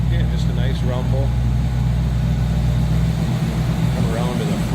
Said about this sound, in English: Nothing crazy obnoxious coming out of the exhaust for sound. Nothing too loud. Yeah, just a nice rumble.